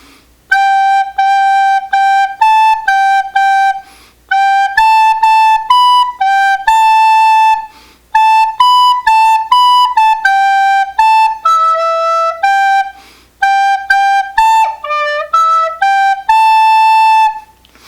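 A recorder plays a bright, clear melody from the Frozen 2 intro song in steady sustained notes, in short phrases separated by brief pauses, solo and close.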